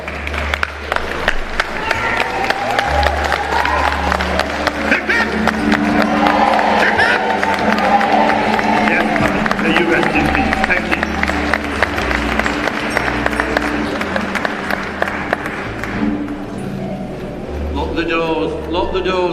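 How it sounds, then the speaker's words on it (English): Mourners at a funeral service stand and clap in a long, steady round of applause that fills the room, with voices and cheering mixed in throughout before it thins out near the end. "So can we all stand up and give her a clap?"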